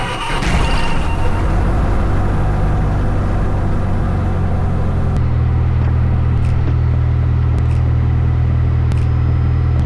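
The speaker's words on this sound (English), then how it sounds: "All right, that was the engine start." A 1964 Mooney M20E's piston aircraft engine starts close by. It catches and settles into a loud, steady, rumbling idle with a deep drone that fills the whole stretch.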